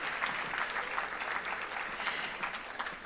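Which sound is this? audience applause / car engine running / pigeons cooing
audience applause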